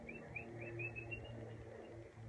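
A person imitates a bird call for a nature puppet with a short series of faint, rising whistled chirps over a low background hum.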